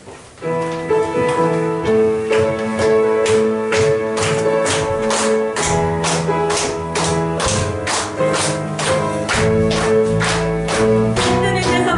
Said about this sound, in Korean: 우리 박수 치면서 함께 찬양할게요